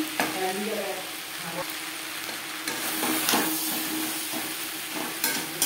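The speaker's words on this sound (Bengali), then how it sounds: "সবজির সাথে বেশ ভালো করে মিক্স করে দেব" Fried spice mix is stirred into drumstick and potato pieces in a hot pan, giving a soft, continuous sizzle broken by scraping and stirring strokes and a few sharper clinks, with no talking.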